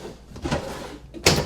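A drawer in an RV kitchen slides with a soft rolling scrape and ends in one short, firm knock as it shuts, close and fairly quiet.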